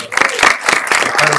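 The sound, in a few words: audience applause for the panelists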